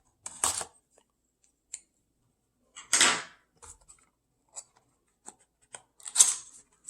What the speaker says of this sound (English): Let's cut that open and take a look and see what's in the box.